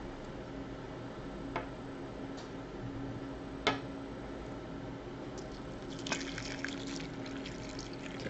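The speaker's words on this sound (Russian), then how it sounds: "Тогда давайте зальем кипяточком." Boiling water poured from a kettle over dry corn-rye flakes in a bowl, a soft, steady trickling stream with a few faint clicks and knocks, quiet and close.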